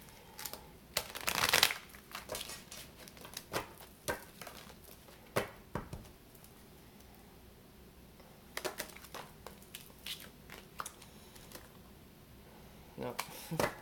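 Quick riffling bursts of cards being shuffled, in short clusters separated by pauses, fairly close.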